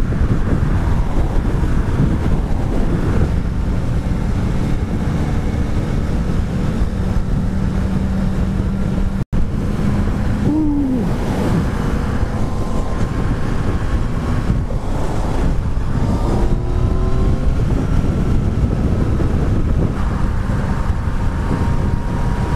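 Heavy, continuous wind roars across the microphone of a rider on a Yamaha XSR900 motorcycle, loud and unbroken throughout, with faint engine tones underneath and one sharp click partway through.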